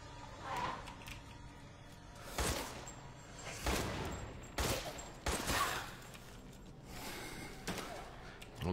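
Gunfire rings out in Resident Evil Village, a string of separated shots and short bursts spread across several seconds, fairly loud and close against a quiet game backdrop.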